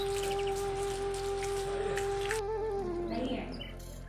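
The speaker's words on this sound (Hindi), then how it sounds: "बहुत ही ज़ोरों से बारिश है, बहुत दिनों बाद हो रही बारिश।" Heavy, steady rain falls continuously over Dehradun, a dense wash of drops with faint bird calls and a sustained tonal hum running through it.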